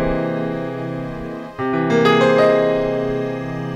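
A piano plays a major triad over a sharp fifth with the left hand, one sustained low chord held and then joined by higher notes partway through, ringing clearly with no talking.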